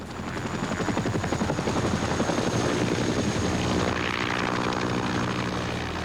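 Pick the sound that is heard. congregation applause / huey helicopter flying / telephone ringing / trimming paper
huey helicopter flying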